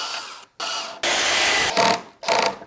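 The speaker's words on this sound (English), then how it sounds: "Let me drill a pilot hole." A power drill whirs in several short bursts separated by brief pauses, close and loud, drilling a pilot hole into a wooden desktop.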